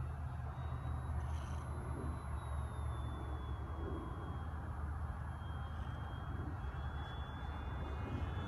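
An RVJET RC reconnaissance plane coming in to land, with a steady distant engine drone over constant outdoor rumble and a faint high whine.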